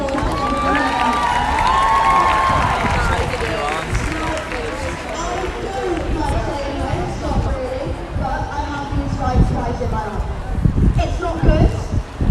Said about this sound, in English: we will always give a massive round of applause to everyone.